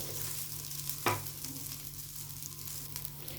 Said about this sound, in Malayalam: കുറച്ച് ഉപ്പും കൂടി ഇട്ടിട്ട് മിക്സ് ചെയ്യാം. നല്ലോണം ഇളക്കി കൊടുക്കുക.